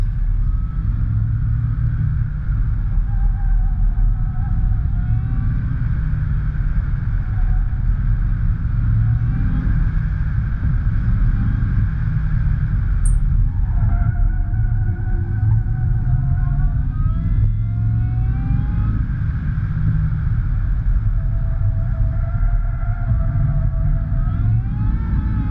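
An ICON Thriftmaster pickup truck with Wilwood brakes runs an autocross course, its engine a steady loud rumbling drone with rising and falling revs as it works through the turns.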